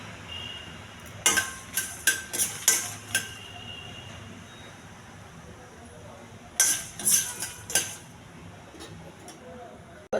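Dry coriander seeds and red chillies stirred in an unoiled pan, heard as two clusters of sharp metallic scrapes and clinks against a quiet background, with a long pause between the bursts.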